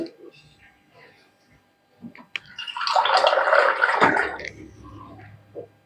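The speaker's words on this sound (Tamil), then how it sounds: "ஒரு டம்ளர் பால் ஊற்றிக்கலாம்." A tumbler of milk is poured into a cooking pan, one close, rushing pour lasting about a second, with brief speech before and after.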